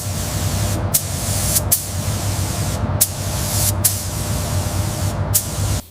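Bursts of spray painting lay chemical agent resistant coating onto a HIMARS rocket launcher vehicle in a factory paint facility, a loud, close, continuous hiss broken by several short pauses.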